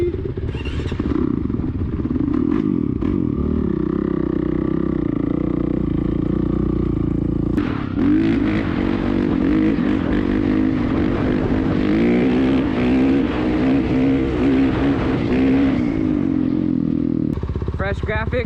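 A dirt bike runs and revs loudly on the Glamis sand dunes, its engine note rising and falling steadily and close by throughout, with a sharp surge in the middle and an abrupt cut near the end.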